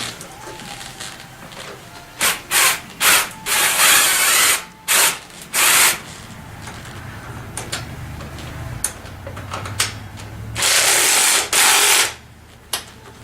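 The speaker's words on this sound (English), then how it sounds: "I'm going to cheat a little bit because I'm using a ratchet" A hand ratchet clicks in quick bursts while tightening bolts during assembly of a Tao Tao ATM50A scooter, rapid pawl ticks coming in several separate runs with pauses between, close and fairly loud.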